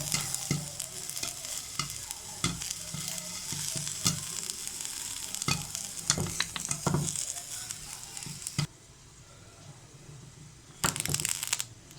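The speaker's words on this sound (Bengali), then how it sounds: "ভুট্টাগুলো কিন্তু সুন্দর ফুটে উঠতেছে।" Corn kernels popping into popcorn in a covered pan, a dense run of sharp pops and clatter against the pan that continues steadily, drops to near quiet, then returns in a short final burst.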